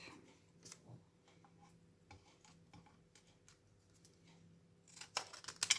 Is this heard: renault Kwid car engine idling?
no